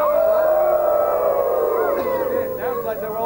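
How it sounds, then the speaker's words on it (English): A loud, drawn-out, wavering howl rises and falls in pitch and holds steady for several seconds, with a few layered, gliding tones near the end. "Everyone was howling."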